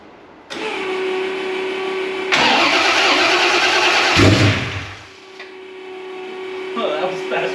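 A Ford small-block 427 V8 cranks and catches on its first startup in a garage, surging into a loud, steady roar before dropping back to idle, with people talking over it.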